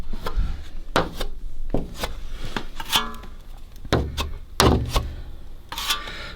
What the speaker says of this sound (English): all I'm going to do is spread it round on the surface